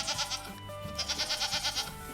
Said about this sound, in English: Meet Miss Wu and her goat.